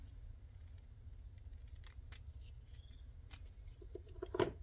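Scissors trim around a sticker, with a few faint, scattered snips of paper in a quiet room and one sharper, louder cut at the end.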